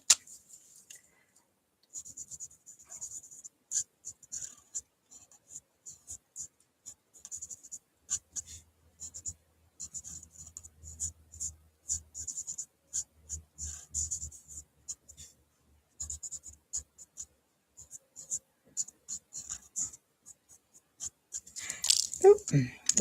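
Colored pencils scratching over card stock while coloring a handmade fun-fold card, a long stretch of soft, close, irregular strokes with short pauses, then some handling rustle near the end.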